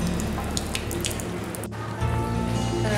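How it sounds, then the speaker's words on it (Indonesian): Water drains from the opened bottom tap of a peat water settling tank, a steady close splashing and trickling that deepens into a fuller gushing flow near the end, with no talking. "Kita bisa buang endapan tadi dengan cara membuka stop keran bagian paling bawah."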